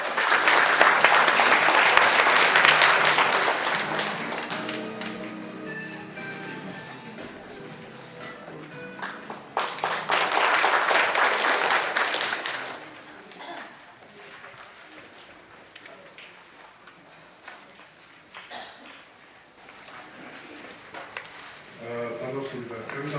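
Applause from the audience at the opening ceremony of the 2019 Saemaul international forum swells into two loud waves of clapping, then fades into scattered claps beneath talk.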